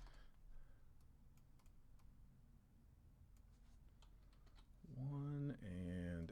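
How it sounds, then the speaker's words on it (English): Keys on a computer keyboard clack in scattered one-handed bursts, quiet and close, ending as a voice starts speaking. "So I'm one hand typing here."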